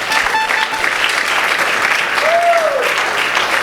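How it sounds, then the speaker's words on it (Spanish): Congregation applauding loudly in church during a Spanish-language service, dense steady clapping throughout with brief vocal tones rising over it. "Démosle un aplauso fuerte al Señor."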